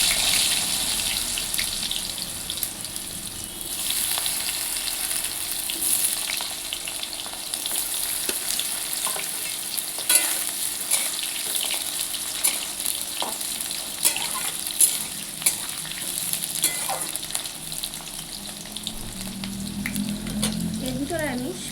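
Chopped potatoes go into a hot pan with cumin for a vegetarian Bengali cabbage dish, giving a continuous fizzy sizzle with occasional clinks and stirs throughout, and water running faintly near the end.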